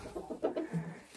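A hen tucked into a curtained nest box gives a few soft, close clucks in a short low burst, with no talk over it.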